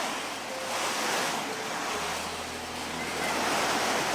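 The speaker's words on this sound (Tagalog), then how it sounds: "Ang lakas talaga yung ulan, tol." Heavy rain pours down in a steady, dense broadband roar with a low rumble underneath, loud and unbroken, and no talking.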